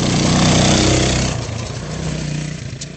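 A small, reliable motorcycle bought as a birthday bike runs close by, a loud, steady engine drone that eases slightly after the first second and keeps idling alone with no talk.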